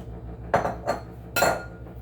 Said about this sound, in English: Crack them in the bowl.